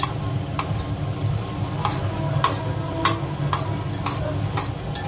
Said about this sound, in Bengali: এবার এখানে মশলাটা কষা হচ্ছে।